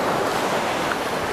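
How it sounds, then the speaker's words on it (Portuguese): Sea waves break against a rocky shore, a loud, continuous wash of surf and churning water close by, with some wind rumble and no voices. "O mar tem uma força impressionante."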